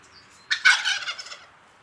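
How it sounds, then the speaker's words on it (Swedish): A turkey cock gobbles once, a rapid warbling burst that is loud and clear against a quiet background. "det höll ju verkligen kalkontuppen med på, det kanske ni hörde"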